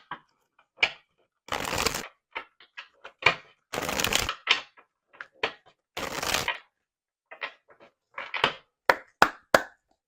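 A deck of oracle cards is shuffled in short, crisp bursts of riffling and slapping, close and distinct, with quiet gaps between each handful and no talking.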